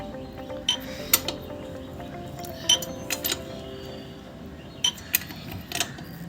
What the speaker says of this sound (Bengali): ফুল হ্যান্ডেল দিয়ে আমরা ফুল টাইট করে নিচ্ছি।